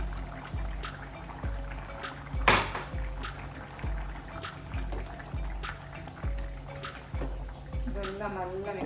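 Fried prawns stirred into a curry in a pot: a spoon scrapes and clinks against the metal in a steady rhythm of knocks, with a brief sharp splash-like burst midway, all close by.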